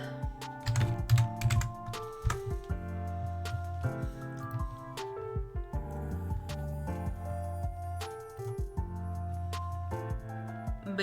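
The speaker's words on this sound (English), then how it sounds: "I'm typing with one hand, forgive me." Keystrokes on a computer keyboard typed with one hand, a close, irregular run of sharp clicks in uneven bursts with brief pauses, steady for several seconds.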